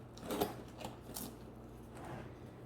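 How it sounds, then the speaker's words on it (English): Scissors snip through a handmade Mexican-style piñata, a few soft, quiet cuts close by with a sharper snip near the start. "I'm gonna cut this open"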